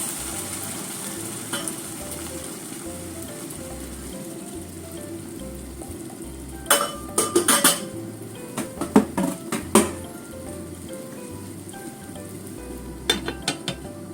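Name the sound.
sweet potatoes sizzling and steaming in a pan with water on low heat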